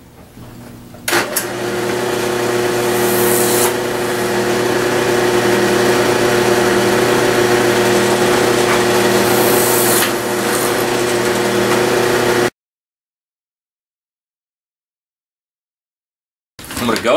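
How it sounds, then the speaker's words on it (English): A power drill bores holes in a pipe, its motor giving a loud, steady whine for about eleven seconds before cutting off abruptly, then briefly starting up again at the very end. "Now that my holes are marked, I'm going to go drill them out."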